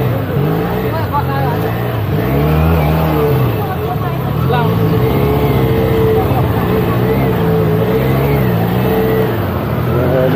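A Benelli 302S motorcycle with its stock exhaust, loud and close, its engine rising and falling through continuous revs with a throaty, steady drone.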